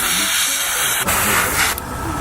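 An airbrush sprays paint in a continuous close hiss, briefly cut off twice as the trigger is released and pressed again.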